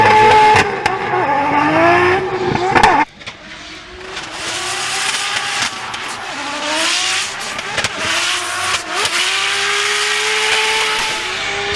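Subaru drift car at a French drift championship round revving hard with a rising, wailing engine note and tire squeal, loud and close, with a sudden drop in revs before climbing again through the chicane.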